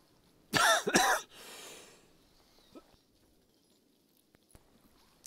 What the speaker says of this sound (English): it's the usual early Saturday morning cough and choke